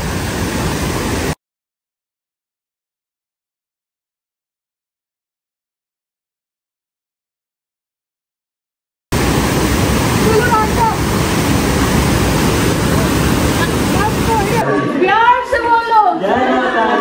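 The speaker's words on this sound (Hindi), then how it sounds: "आगे देखो कितना बहाव है पानी का।" The Banganga stream on the Vaishno Devi pilgrimage route near Katra rushes loudly and close as a dense, constant roar of flowing water. It cuts out into a long silent gap, then returns with voices near the end.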